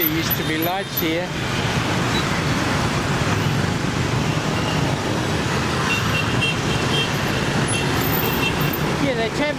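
Busy street traffic in Ho Chi Minh City, with city buses among the vehicles: a dense, steady roar of engines close by, with scattered horn toots throughout and faint voices mixed into the din.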